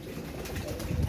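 Pigeons cooing at close range, soft low murmuring calls over a faint busy background.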